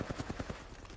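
Automatic gunfire in the Apex Legends video game, a rapid burst of about six evenly spaced shots, faint and slightly distant.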